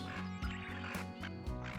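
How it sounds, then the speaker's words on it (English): Ducks quacking nearby, including tufted ducks and a Eurasian teal, with repeated short rhythmic quacks over a steady background. "Those are both 2 tufted ducks and a Eurasian teal."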